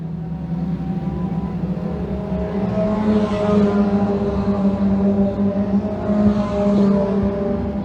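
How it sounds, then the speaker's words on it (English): Race cars in a Thunder-class heat at Can-Am Speedway, the field coming off turn four on the first lap, producing a steady loud engine drone with rising and falling passes, no talk over it. "Francis White in control of the field as they work down off of turn number 4 at lap number 1."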